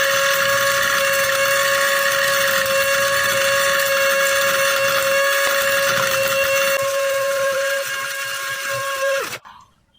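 A high-power grinder motor runs with a steady, loud, high-pitched whine for several seconds, then winds down and cuts out near the end.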